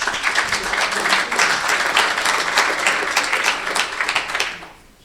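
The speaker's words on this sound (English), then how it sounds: "Big round of applause," An audience at a sales conference in Leeds applauds, a dense and steady clapping lasting several seconds before it tapers off at the end.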